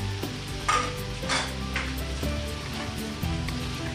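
Shrimp and bean sprouts sauté in a pan at home, giving a steady sizzle and fry with repeated stirring scrapes and clatter throughout, close and moderately loud, with no talking.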